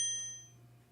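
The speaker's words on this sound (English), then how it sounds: "hit that notifications bell" A single bright notification bell ding, struck once and ringing out as it decays within a second over a faint low hum.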